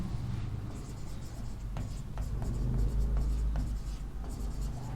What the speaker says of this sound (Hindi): तो मैं लिख सकता हूं